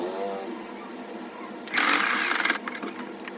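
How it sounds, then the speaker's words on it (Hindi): A sewing machine stitching a fabric strip on a dress runs in a short, close, buzzing burst of about a second. Quiet room sounds and a little voice come before it, and a few light mechanical ticks follow. "आपको मशीन पर दिखाती हूँ किस तरह से इसे स्टिच करना है।"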